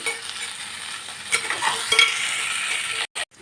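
Beans fry and sizzle loudly in a pan while a spoon stirs them with scraping strokes, the hiss steady up close before a brief pause near the end.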